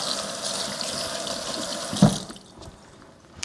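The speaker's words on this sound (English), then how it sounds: "you literally rinse this off." Water running over a stainless steel appliance piece that collects seeds as it is rinsed during meal prep, a steady close splash that cuts off partway through and leaves a quiet room.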